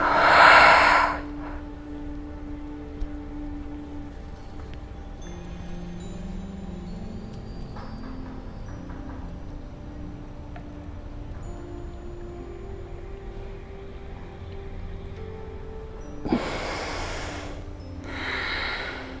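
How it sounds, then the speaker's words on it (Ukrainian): A deep breath is drawn and forcefully blown out during nauli kriya yogic abdominal massage, a loud close breath at the start, then a long near-silent hold and another strong inhale and exhale pair near the end. "Глибокий вдих, максимальний видих."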